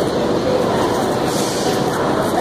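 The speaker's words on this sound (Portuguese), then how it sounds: "E aí está o trem." A Chinese high-speed bullet train on the way to Shanghai produces a steady, loud rumbling roar of rail noise with constant intensity, heard from on board without talking.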